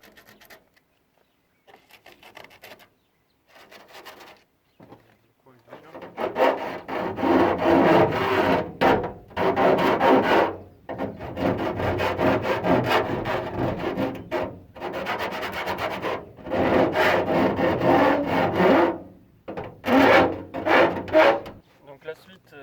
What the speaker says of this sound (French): Du coup là on va poncer et limer tout simplement.